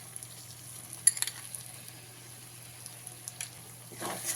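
Beaten sour curd is stirred into a spice mix frying in a pan, giving quiet scrapes and small clinks over a low sizzle and a steady hum, with no talk.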